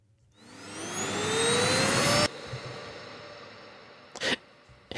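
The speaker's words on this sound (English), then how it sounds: "And then here's a second riser." A second riser effect for epic trailer music, built in Logic Pro with a Viral Audio Ascent plugin, climbs in pitch and loudness for roughly two seconds, then stops sharply and leaves a quieter decaying wash with a couple of brief bursts.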